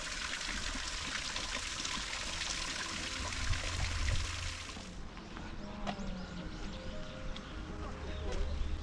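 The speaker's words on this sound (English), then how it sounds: "To our left, you'll see the waterfalls" Waterfalls in the Higo-Hosokawa Japanese garden in Tokyo pour with a steady rushing hiss that eases midway, leaving softer trickling water with bird calls and faint background sounds.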